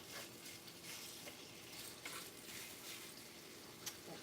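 Bacon strips cut in half hiss and sizzle steadily in a frying pan, a dense, even crackle that carries on without pause and with no one speaking.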